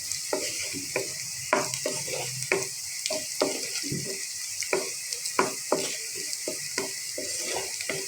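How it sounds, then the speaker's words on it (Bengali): Onions and turmeric sizzle steadily in a pan while a utensil scrapes and clacks against it in irregular strokes, close by. "দেখেন পেঁয়াজটা ভালোভাবে ভাজা হয়ে গেছে আমার।"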